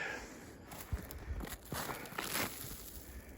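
Footsteps crunch slowly across about six inches of snow on a deer trail, a handful of soft, uneven steps close by in a quiet outdoor setting.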